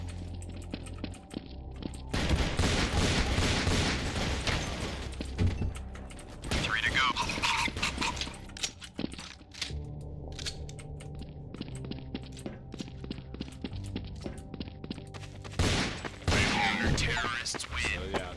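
Video game gunfire with headshots, played in SourceBox: bursts of shots and mechanical clatter come and go over an ongoing background, mixed with keyboard typing and some speech.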